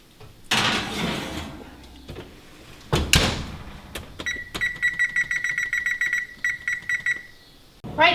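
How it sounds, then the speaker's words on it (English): A kitchen oven timer beeps in a fast repeating series of high electronic tones after some clattering of cookware, set during baking of a three-cheese rigatoni pie at 400 degrees. "Right, timer went off, 15 minutes."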